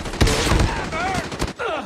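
Bursts of gunfire from a battle royale video game, rapid close shots at the start, with repeated shots continuing amid game sound effects and some voice activity underneath.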